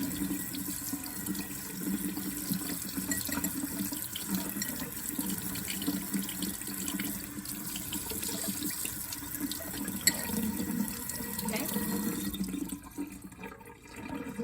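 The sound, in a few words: hot water running from a tap while rinsing a glass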